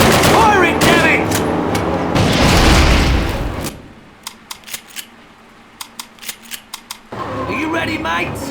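Heavy firing from a panzer tank in Call of Duty (2003), with a loud booming blast and rumble, then a quieter stretch of sharp, scattered distant shots, and a voice speaking over the action.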